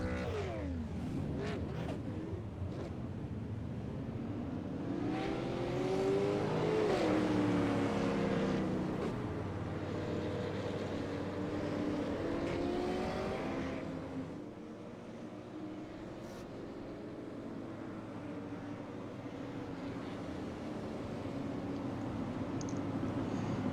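Engines of Super Late Model race cars idling along on a formation lap at Iowa Speedway in iRacing, a steady droning rumble that swells and fades as cars pass, with no talk.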